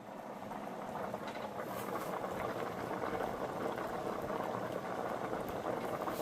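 Pinto bean stew boils in a pot on a regular stove, a steady, dense bubbling and popping that stays continuous and moderately quiet throughout, with no voices.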